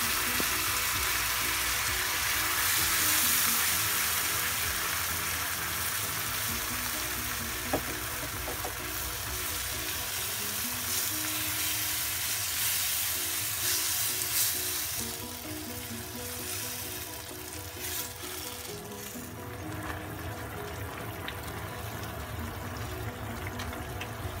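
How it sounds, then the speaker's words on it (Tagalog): Pork fries in a frying pan with no oil, a continuous close crackling sizzle with wet bubbling and popping that runs steadily throughout, without voices. "Palilagay lang natin yung ating pork dito sa ating frying pan."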